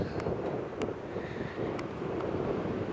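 Steady wind buffets outdoors on a smoky day at Crater Lake National Park, a continuous low rushing with faint higher gusts, no voices present.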